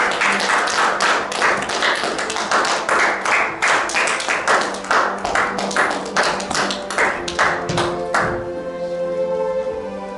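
A church congregation clapping in rhythm during a worship service, loud, steady, evenly spaced claps for about eight seconds before fading into a quieter musical tail.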